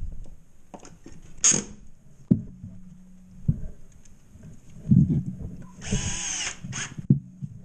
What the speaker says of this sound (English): I install my corner bead with screws